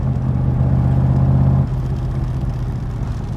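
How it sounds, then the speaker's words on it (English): The Roush 427 V8 in a Backdraft RT4 Cobra roars loud and close in a deep, steady drone, then drops to a lower rumble partway through as the revs fall. "the noise is just unbelievable. The exhaust is literally right next to your head."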